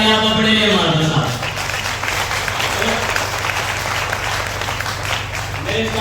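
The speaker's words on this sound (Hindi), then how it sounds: "तो एक बार जबरदस्त तालियां आप अपने लिए मार दो साहब" Audience applause fills a hall during a motivational stage speech, steady and loud throughout, with a voice speaking over the clapping at the start and end.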